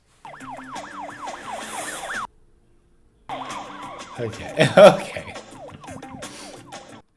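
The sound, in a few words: police sirens in a film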